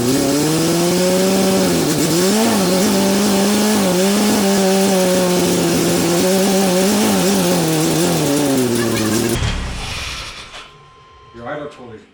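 A 3.0L turbo boat engine swapped into a Chevy S10 idles loudly and steadily with a wavering idle controller, then cuts off near the end, leaving faint clatter; voices speak over it.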